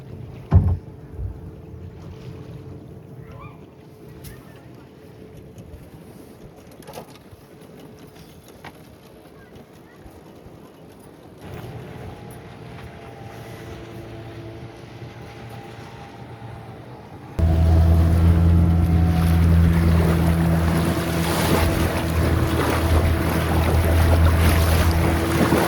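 A tourist boat on a safari trip at Malvan, Devbaug, with a steady engine hum and wind running throughout, growing noticeably louder and rougher partway through as the boat picks up speed.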